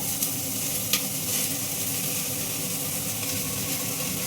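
Radish and spinach leaves sizzle in hot oil in a pan, a dense steady hiss with a couple of brief sharper crackles near the start, close and continuous with no talk.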